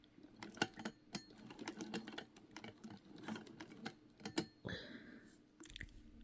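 A vintage Singer 99K sewing machine chain-pieces quilt fabric with a 1/4 inch seam, producing rapid close mechanical ticking in short bursts, followed near the end by a brief higher whir.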